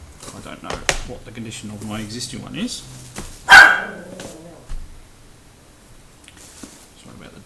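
A dog gives one sharp, loud bark nearby, with a couple of fainter yips, while someone talks indoors through most of the moment.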